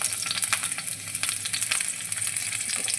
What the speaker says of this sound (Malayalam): ചട്ടി വെച്ച് നമുക്ക് പച്ചമുളക് ഇടാം ആദ്യം